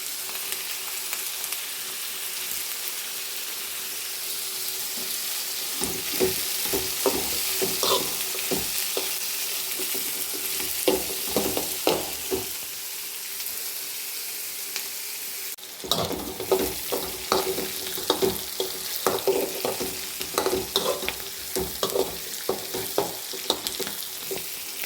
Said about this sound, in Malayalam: ഈ ഉള്ളിയെല്ലാം കൂടെ നല്ലപോലെ ഒന്ന് വഴറ്റിയെടുക്കണം. അല്പം കറിവേപ്പിലയും കൂടി ഇട്ട് കൊടുക്കാം.